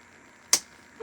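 One quick, crisp snip of a boxwood stem cut for a spring square wreath, a single sharp click at close range in a quiet room, followed by a faint rustle.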